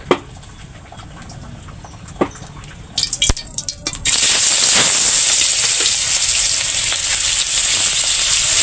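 Loud, steady sizzling of fish frying in hot oil in a pan starts after a few sharp clatters and continues as a constant bright hiss.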